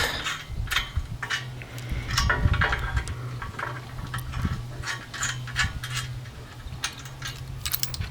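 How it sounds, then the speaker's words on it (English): Bolts with nylock nuts are tightened during assembly of an ALTA rack, a ratchet clicking in quick, uneven runs of close metallic ticks with small gaps between strokes and no talk. "You want to get these pretty tight, and this is a good spot also to tighten all 4 bolts as well for your latch assembly."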